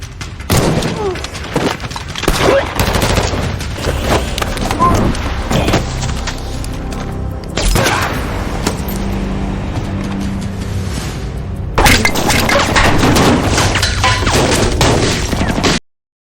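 Loud, chaotic action-movie mix with bursts of gunfire, booms and crashes, intense throughout and cutting off abruptly at the end.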